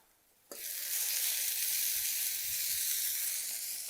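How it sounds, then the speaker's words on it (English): Onions frying in a pot give a steady, loud sizzle that begins abruptly after a short quiet moment and holds constant throughout, with a few faint low bumps underneath. "as you can see, my onions are cooking away"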